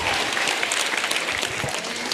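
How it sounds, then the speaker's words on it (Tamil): A school audience applauds a girl named Meghana, a dense, steady wash of many hands clapping at once that fills the whole moment with no voices rising above it. "மேகனாவுக்கு ஒரு கைத்தட்டல் கொடுங்க"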